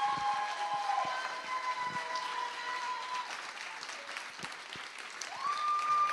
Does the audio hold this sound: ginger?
no